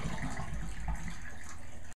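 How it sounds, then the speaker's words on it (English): Bleach is poured into a bathroom drain, a faint, steady splashing and gurgling flow close by that lasts about two seconds and then stops abruptly. "I'm just going to pour this bleach in there."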